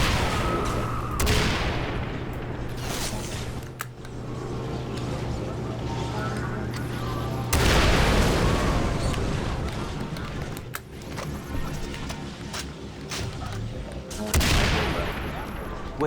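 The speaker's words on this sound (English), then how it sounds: "who doesn't want a weapon that just has explosive rounds?" A video game rifle fires explosive rounds in dense, loud bursts of blasts and booms that crowd the whole stretch. Heavy surges come at the start, around the middle and near the end, with a voice talking faintly beneath the gunfire.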